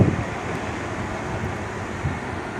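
Strong, steady wind blows outdoors in the Philippines ahead of a typhoon, a continuous rushing roar that buffets the microphone, with no voices present.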